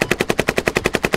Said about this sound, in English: Give me suppressing fire on that hill.